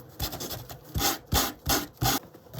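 Hand sanding the edge of a cardboard storage box with sandpaper, heard as four or five short, loud rasping strokes in a steady rhythm, close up with no talking.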